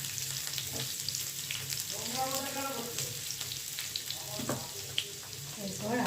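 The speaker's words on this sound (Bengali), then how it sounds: "রসুনটা দেব আর আদা কুচিটা দেব" Chopped garlic and ginger frying in oil in a pan, a soft steady sizzle with a brief tonal whine in the middle and a single knock near the end, with no talking.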